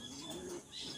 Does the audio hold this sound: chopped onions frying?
no